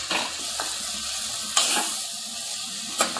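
Ridge gourd pieces tossed into a pan of sautéed onions and stirred for a Bengal gram kootu, a soft steady sizzle with a few sharp scraping strokes, no voices.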